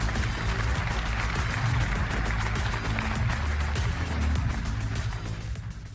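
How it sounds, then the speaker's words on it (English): Sustained applause from a large keynote audience at a tech conference fills the space, steady and dense throughout, fading slightly at the end. "Everybody, let's give Nimesh another round of applause."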